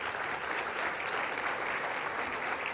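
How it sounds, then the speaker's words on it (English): An audience at a formal doctors' ball in New South Wales applauds for the health minister, with steady, dense clapping that holds throughout. "Please a big round of applause for the Minister."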